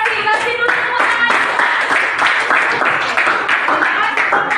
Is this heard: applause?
yes